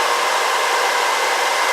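A BR Bluerise nail dust collector fan runs at full power, a loud steady broadband whoosh like a hair dryer held close, constant for the whole short stretch with no voices.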